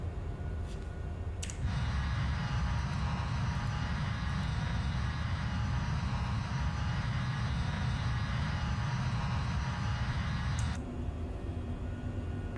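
An Embraer E190 jet airliner roars through its takeoff and climb out of Boston in Microsoft Flight Simulator, a loud, steady engine rush holding constant for about nine seconds before dropping back to a lower hum.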